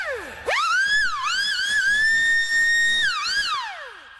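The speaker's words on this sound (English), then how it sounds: "when I say red alert, the logo turns red and the siren goes off" A novelty electronic siren wails in rising and falling sweeps, loud and close, cycling up and holding a steady high tone before dropping away, with no talk over it.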